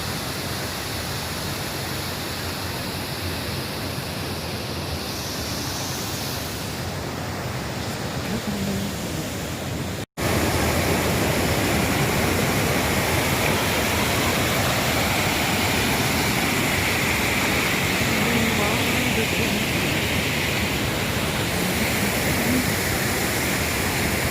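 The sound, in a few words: flowing stream, Bhimeshwara stream near temple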